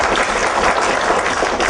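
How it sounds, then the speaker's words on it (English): Audience applause fills a town hall during a governor's opening remarks: steady, dense clapping from a large crowd, sustained throughout with no voices over it. "I'm going to ask you to applaud again in a minute"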